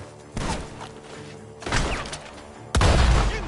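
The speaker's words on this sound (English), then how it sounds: "The gunshots are coming from that barn." Gunfire echoes from a barn in a PS4 video game, with a few heavy, booming shots, the last one loudest and closest, set against a steady ambient background.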